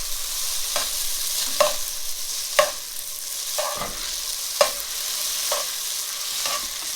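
Pasta tossed and stirred in a hot frying pan, steady sizzling with a series of regular scraping, clattering strokes roughly every second, close and fairly loud, with no talking.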